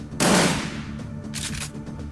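Burst fire gunshots in the video game Shadowrun Returns Dragonfall: a loud, sharp volley at the start decays into a rattling tail, followed by a second, quieter burst a moment later.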